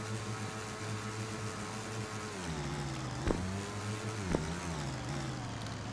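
Car engine driving in a video game, a continuous rev that shifts pitch, broken by two sharp impacts, with no voices.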